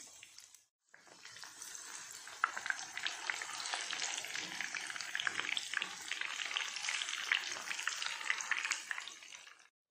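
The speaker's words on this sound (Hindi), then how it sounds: "कोफ्ता का दूसरा बैच भी फ्राई कर लें।" A second batch of kofta fries in hot oil, a steady crackling sizzle that starts after a brief silence and holds close and even to the end with no talk.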